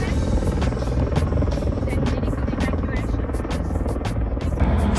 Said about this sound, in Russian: Все утро спасательный вертолет летает в лагерь и обратно